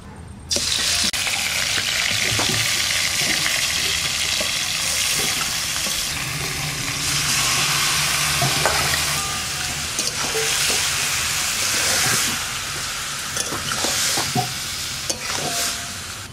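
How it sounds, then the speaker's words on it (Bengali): Marinated chicken for a Kerala-style gongura chicken curry fries in hot oil, giving a loud, steady sizzle that runs throughout, with occasional light clinks and scrapes of stirring. "এবারে তেলের মধ্যে আমি এই ম্যারিনেট করা চিকেনটা দিয়ে দেবো।"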